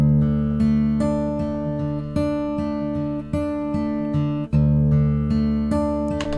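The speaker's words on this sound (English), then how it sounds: "So a perfectly fine but very mono sounding guitar there." An acoustic guitar picked up by a microphone aimed straight at it plays clear, ringing chords and plucked notes with steady strums, close and fairly quiet, with no other sounds.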